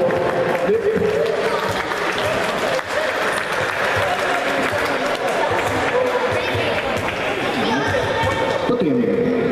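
A school team's audience applauds steadily at an indoor event, the clapping loud and continuous throughout with crowd chatter mixed in.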